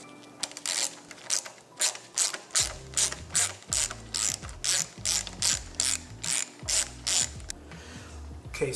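A ratchet wrench with a socket clicks steadily as it turns a bolt while Triumph Street Triple 765 RS brake and clutch levers are being installed. The bursts are rhythmic, close and loud, with short pauses between strokes and no talk.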